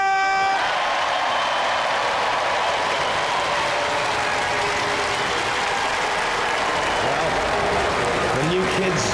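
Mixed crowd reaction at a Robot Wars semi-final after the judges name Dantomkia the winners, a steady broad roar of applause and cheering from a large audience that stays loud throughout, with mechanical clanks and other voices mixed in.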